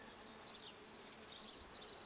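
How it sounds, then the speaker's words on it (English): Many honey bees buzz inside a wooden bait hive holding a caught swarm, heard during an inspection: a faint, continuous, close hum with shifting higher drones. "there's a lot of bees in there"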